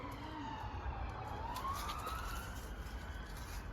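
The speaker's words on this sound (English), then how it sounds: "Siren? Yeah. Yeah, Siren." A distant emergency-vehicle siren wails faintly across a busy outdoor backdrop, one long rising sweep of tone sitting low in the mix with no talk over it.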